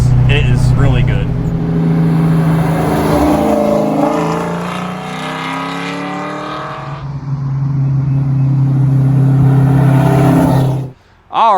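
A 1959 Edsel powered by a 351 Cleveland engine accelerates through the gears, a loud, close engine roar that climbs in pitch, eases at a shift midway, builds again and then cuts off abruptly.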